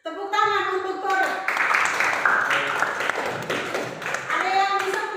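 Classroom applause for a student, a burst of children's hand clapping rising after a voice and continuing alongside kids' chatter.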